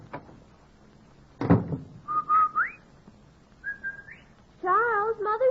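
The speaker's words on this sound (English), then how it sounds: "The Rinso whistle is our way of telling the children we're home from work." The Rinso whistle, a rising two-note call, is whistled by a mother arriving home from work at a Kansas City household. Clear, close whistled phrases follow a door-like thump and repeat several times, alone without talk.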